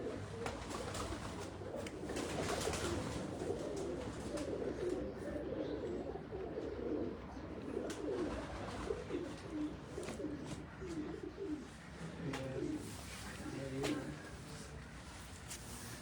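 Soft, repeated cooing of pigeons, several birds murmuring in low rolling calls over a quiet background, fairly close but gentle.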